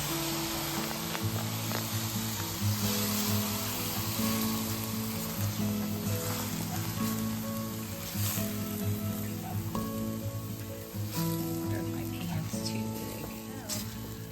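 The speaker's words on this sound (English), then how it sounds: "Stir continuously, let it absorb before you add more." Butternut squash risotto stirred in a hot pan, a soft continuous sizzle running beneath steady background music, with faint scraping of the spoon now and then.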